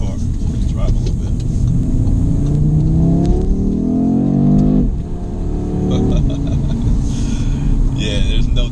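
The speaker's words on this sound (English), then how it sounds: "Let's put it in sport mode, and let's listen to the car." A 2022 Audi RS3 in sport mode drives and accelerates, its engine note climbing in pitch through the gears and then settling, loud and steady inside the cabin, with no talking.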